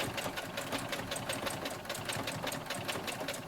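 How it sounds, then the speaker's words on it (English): A sewing machine stitches a shoe insole in close quilting lines, giving a steady, fast, continuous mechanical whir with rapid rhythmic needle pulses, loud and near throughout with no talk. "I just kind of let the machine pull it through as I turn it from side to side gently"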